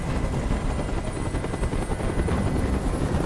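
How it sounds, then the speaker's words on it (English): Steady, loud helicopter rotor drone from the video game Detroit: Become Human, a hovering helicopter with a continuous chopping throb, sustained throughout with no pauses. "I can't stand that noise anymore. Tell that helicopter to get out of here."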